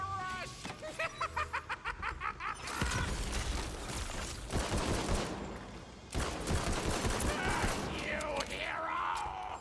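Gunfire in the Tiny Tina's Wonderlands shooter game, with rapid bursts of automatic shots and repeated weapon blasts from close by, backed by layered game effects and some talk.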